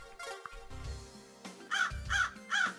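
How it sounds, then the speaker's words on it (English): Seagulls calling in the video game Paradise Killer, a series of three or four loud, harsh, nasal squawks, close and clear, rising in strength toward the end. "Except for seagulls."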